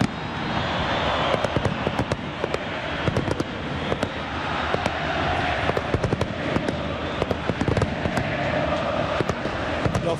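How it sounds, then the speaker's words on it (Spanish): Fireworks burst over a nighttime Boca Juniors vs River Plate summer football match at a stadium in Mendoza, giving loud, rapid crackling explosions and pops that continue throughout. "Los fuegos de Júpiter iluminan la noche."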